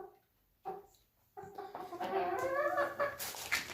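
Backyard chickens cluck and murmur in a loose chorus close by, with soft calls building into denser, louder clucking toward the end.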